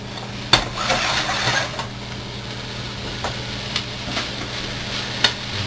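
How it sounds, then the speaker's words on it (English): Wild onion bulbs sizzle steadily in a pan while being stirred, with occasional scrapes and clacks of the utensil against the pan. "You can see our bulbs are starting to caramelize a little bit."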